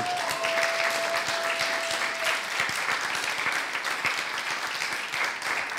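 A church congregation at a Sunday worship service applauding, a dense sustained clapping that fills the room with a few cheers mixed in.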